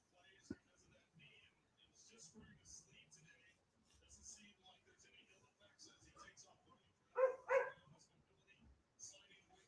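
Dogs bark in a short double burst at a distance, faint under a quiet commentary of a Vikings vs Packers football stream, with people talking throughout.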